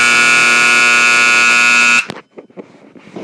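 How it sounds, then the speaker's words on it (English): A Federal horn fitted with a strobe, tested indoors in a shop, blares one loud, steady electronic tone for about two seconds and then cuts off abruptly, leaving a clatter of faint echoing room sounds. "Oh, I love this horn."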